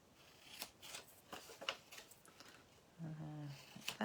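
Scissors snipping through cardstock along drawn lines, several short crisp cuts in an irregular rhythm, close but quiet, with faint rustling of the paper.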